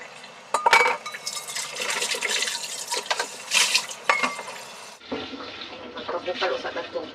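Tap water runs steadily into a kitchen sink while vegetables for fried rice are rinsed, with splashing changes and a shift in the flow partway through, fairly close.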